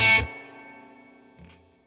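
A distorted guitar chord through a delay pedal with reverb turned up rings out and fades with a long reverberant tail, followed by a quieter second note trailing off.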